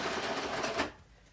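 A sewing machine running a straight stitch through fabric, a short close burst of rapid whirring that cuts off abruptly before a quiet pause.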